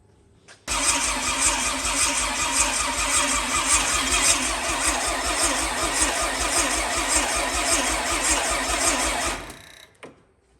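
A Honda Civic engine cranks over steadily with the starter for about nine seconds, making a loud, even, rapid chugging rhythm close by that then stops. The car does not clearly catch and run.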